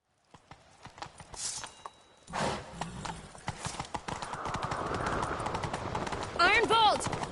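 Horse hooves clip-clop into a gallop in Witcher 3, rhythmic thudding under in-game talk, with a sharp neigh near the end.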